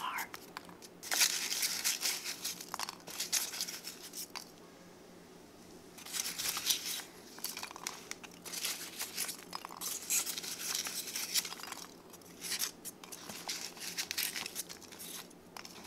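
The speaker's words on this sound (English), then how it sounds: "Removing the packing peanuts from this box." Packing peanuts are pulled from a crystal growing kit box, close, soft crinkling and rustling bursts that come and go with quiet gaps between, under faint whispered talk.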